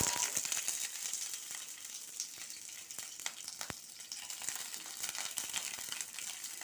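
Steady crackling sizzle of green chillies frying in a hot pan of tempering spices, with scattered sharper pops and crinkly bursts throughout.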